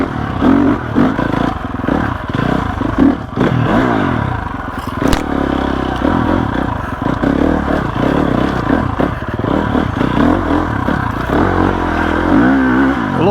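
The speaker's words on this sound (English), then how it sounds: "Since this is an off-road race bike, let's see how she feels on the trails." A 2021 GasGas EX 350F off-road race motorcycle rides along flowy trails, its engine buzzing and revving up and down close by, with clattering and scraping from the terrain throughout.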